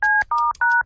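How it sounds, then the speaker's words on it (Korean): Three short two-tone keypad dial beeps from a telephone being dialed to place a call, loud and evenly spaced, with no talking. "잠깐 있어봐. 전화 좀 걸게."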